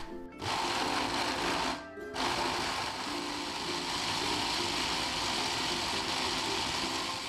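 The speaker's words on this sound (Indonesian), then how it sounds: "Lanjut kita haluskan bumbunya." Small kitchen blender grinds spice paste for Balinese grilled fish, a steady high-pitched motor whir that cuts out briefly twice near the start, then runs continuously and loud.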